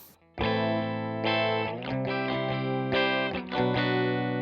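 Dry electric guitar played through an Arturia FX Collection effects chain with the effect bypassed: a string of loud, sustained chords and notes with strong overtones, struck in an uneven rhythm of several attacks, close and alone with no voices.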